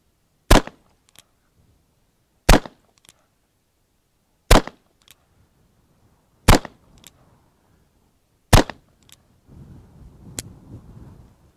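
A Cimarron Model P revolver in .45 Long Colt fires five loud, sharp shots outdoors, evenly spaced about two seconds apart, each with a short echo, followed by faint rustling.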